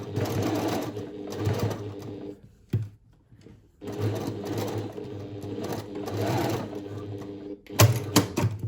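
A sewing machine runs in two steady bursts as it stitches back and forth over a gathered seam, pausing in between, with a sharper clatter of handling near the end.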